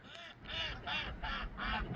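Ducks quack at a farm pond, with four or five loud, close, nasal calls in quick succession and no talking.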